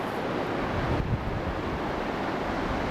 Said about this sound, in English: There's the water going by it.